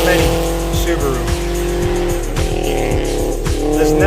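A Subaru rally car on the Iron Mule Rally 2023 stage, with a loud, continuous engine roar rising and falling in pitch and tires squealing as it slides past nearby.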